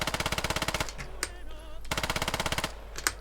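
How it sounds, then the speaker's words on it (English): PPSh submachine gun firing fully automatic in the game Squad: two long, rapid bursts of evenly spaced shots separated by a short pause, close and sharp, with a single shot near the end. "with accurate automatic fire, the PPSH can hit the target basically all the time"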